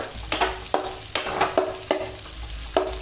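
Chopped onions frying in a pan, a steady soft sizzle broken by repeated scraping strokes of a spoon stirring them, close up with no voices.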